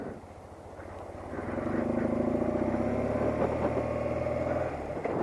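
A 1978 BMW R 80/7 motorcycle engine, freshly carb-rebuilt, idles with a steady low thrum, then rises to a fuller, louder drone that holds evenly before easing off slightly at the end.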